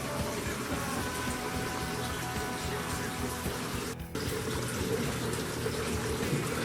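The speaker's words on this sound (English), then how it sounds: "On the far end there's a few water turtle hatchling enclosures. That's what that water flow you're hearing is." Steady water flow running through water turtle hatchling enclosures in an indoor tortoise compound in Arizona, a continuous even wash with a brief dip partway through, no voices.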